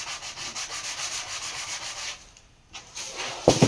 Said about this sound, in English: Sanding the desk was a time-consuming endeavor.